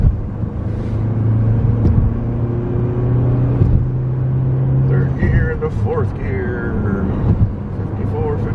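A car accelerating on a road while heading down a hill, a steady close engine rumble that rises in pitch over the clip, heard under continuous talk from the driver.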